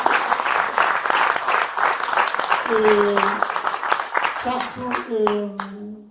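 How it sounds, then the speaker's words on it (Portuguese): Volunteers receive a warm round of applause from an audience, steady crowd clapping mixed with voices talking and a few tonal, sung or hummed sounds rising over it toward the end. "que eu peço uma salva de palmas especial"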